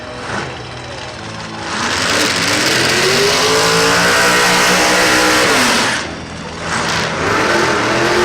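A drag race car launches on its first run of the day, its engine roaring and rising in pitch as it pulls away, loud and sustained for several seconds before a brief dip and a renewed surge.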